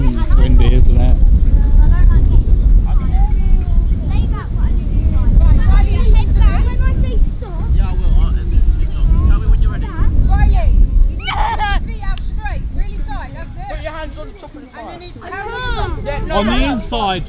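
Heavy, rumbling wind buffeting the microphone throughout, with voices and children's chatter mixed in on top.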